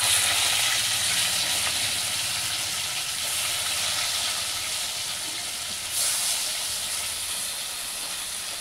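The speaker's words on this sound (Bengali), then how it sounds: "মা এখন মাছগুলো ভেজে নেবে।" Fish rubbed with turmeric and salt frying in hot oil, giving a steady, dense hiss and sizzle that holds at an even loudness throughout, with a brief flare near the end and no voices.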